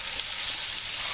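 A batch of onions hitting a hot pan for liver and onions, giving a loud, even, hissing sizzle that holds steady throughout the clip with no voices.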